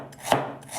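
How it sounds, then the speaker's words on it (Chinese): A single sharp knife chop on scallion and ginger on a cutting board, part of prepping aromatics for fried fish. It is one brief close knock with a faint hiss around it. "趁着鱼在沥水的时间，我们来切点葱姜。"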